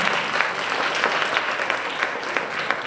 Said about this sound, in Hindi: तो एक बार तालियां सब आप सब के लिए